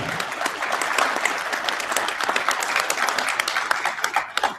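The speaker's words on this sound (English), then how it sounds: "Give them a round of applause," A conference audience applauding female veterans who stand in the room: dense, sustained clapping from many hands, loud and steady, thinning slightly toward the end, with no voices over it.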